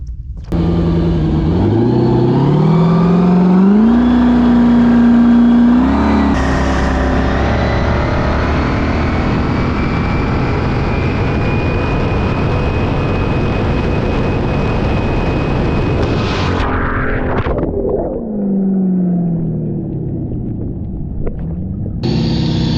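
A naturally aspirated LS V8 jet ski fitted with a 160 mm pump, its engine roaring loud and close as it revs up, holds a steady high-RPM drone for a long run, then winds down, with no talking.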